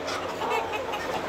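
Chickens on a poultry farm clucking softly at a distance, a faint, continuous murmur of several birds with no talking.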